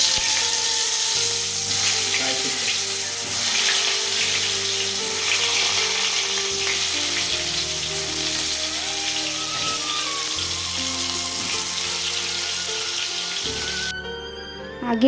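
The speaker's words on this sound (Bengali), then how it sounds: "এবার পটলগুলোকে তেলের মধ্যে ফ্রাই করে নেব আগে" Pieces of pointed gourd (potol) frying in hot oil, giving a constant close crackling sizzle that carries on steadily under background music.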